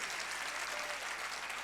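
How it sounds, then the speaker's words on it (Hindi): Audience applause at a temple gathering during a spiritual discourse, a steady dense wash of clapping hands filling the whole moment without pause, fairly loud and even. "ताली तो बजाओ तुम लोग"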